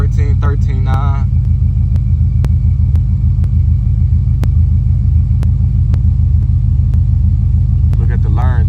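A Buick Regal with Holley EFI idles after a cold start at about 800 RPM, a loud, steady low rumble throughout, with a person briefly talking near the start and end.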